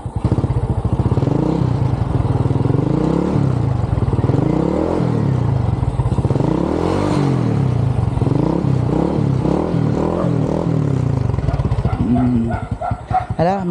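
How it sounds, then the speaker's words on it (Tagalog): A motorcycle engine is started and left idling outdoors, its low putter steady and fairly close, with a dog barking over it and voices talking now and then. "Nya ato sa paandar ni ang motor kay mulakaw ta karon."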